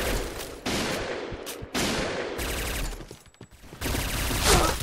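Rapid bursts of automatic gunfire from an MP5K submachine gun in a video game, loud and close, broken by short pauses between volleys.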